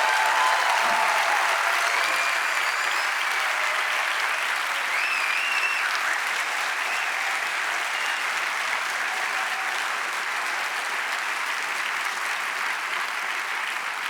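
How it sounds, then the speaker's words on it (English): A large crowd at the Reeperbahn Festival 2022 opening show gives a long, even round of applause for the stagehands and organizers, continuous dense clapping filling the space. "give all the people working so hard for this festival a big round of applause"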